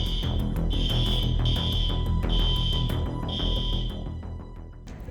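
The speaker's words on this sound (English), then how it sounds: "this fire alarm's going crazy" A hotel fire alarm sounds continuously and loudly, its steady high electronic tone broken into long pulses over a dense, rumbling background for about five seconds.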